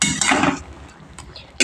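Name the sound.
stirring spinach in a pan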